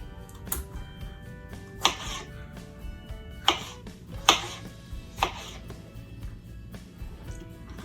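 A knife chops tomatoes and cucumbers on a board for a creamy summer salad, giving a handful of sharp, close, separate cuts spaced a second or so apart over quiet room tone.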